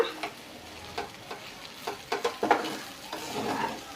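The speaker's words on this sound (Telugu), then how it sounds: "ఇది పచ్చి వాసన పోయినంత వరకు బాగా అలా వేపాలి" Curry masala frying in a pan for a cluster bean, moong dal and patodi curry, a soft sizzle under scraping, stirring strokes that bunch together near the middle, with no voices.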